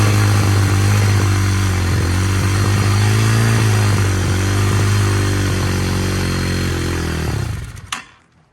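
A cold Hawk 250 motorcycle engine runs with the choke on and throttle held steady, giving a loud, close, even drone with a rattly clatter that cuts off abruptly near the end, leaving a brief clank and silence.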